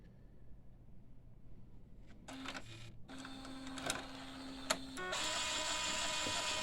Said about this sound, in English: so the pump seems to be working. We got some ink